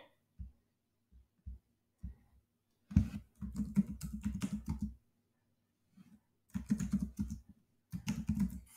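Computer keyboard typing C code on Linux, quiet bursts of rapid keystrokes with short pauses between them, close and soft, without talk.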